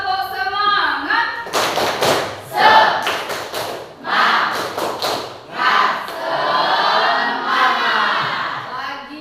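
Students in a classroom perform rhythmic spirit clapping in unison, sharp clustered claps and thumps in bursts, mixed with loud group chanting voices throughout.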